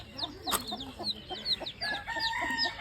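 Several chickens cluck and squawk nearby in short, overlapping bursts, with a brief crow-like call among them.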